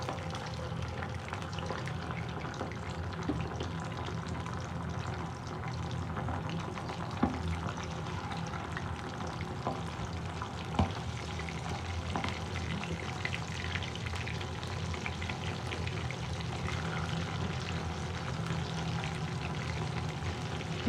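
Chicken pieces frying in hot oil for chowmein, a dense continuous bubbling sizzle with occasional small pops and clinks, steady and close throughout.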